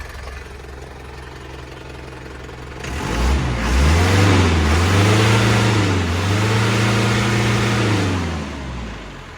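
Isuzu NKR110 truck diesel engine starting up after a quiet moment, then running and revving smoothly in steady rising and falling swells, close and loud with no talking.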